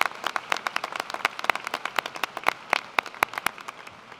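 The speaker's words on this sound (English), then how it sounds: "let's look to the stands and applaud those friends and family members who are here with you today" Sparse applause from friends and family in the stands at a fall commencement ceremony, individual claps distinct and moderately quiet, scattered irregular hand claps rather than a dense ovation.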